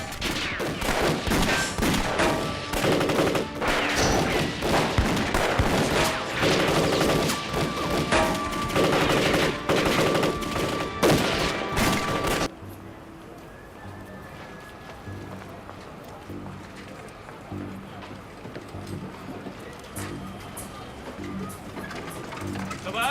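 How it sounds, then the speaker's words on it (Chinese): A shootout in a Chinese TV drama set in wartime Shanghai fills the first half with loud, rapid, overlapping gunfire bursts. It then cuts abruptly to a quieter scene where people talk. "开枪！"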